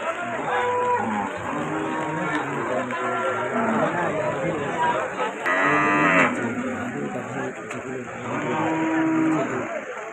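Cattle, including cows, moo repeatedly, several animals calling over a busy cattle market din with people chattering in the background.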